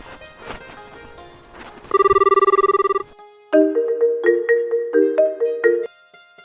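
A phone ringtone plays while a call is being placed: a steady held electronic tone about a second long, then a bright melodic run of repeated notes, close and clear with no talk.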